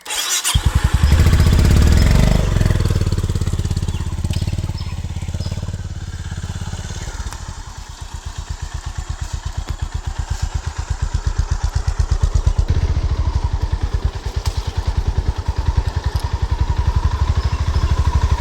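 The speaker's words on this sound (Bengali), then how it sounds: "এই বাইকের যে আওয়াজটুকু হচ্ছে সেটাও যেন অড লাগছে" A motorbike in Bhabapur Forest, Hooghly, starts with a rough surge, then settles into a close, steady engine chug that rises slightly as it rides through the quiet woods.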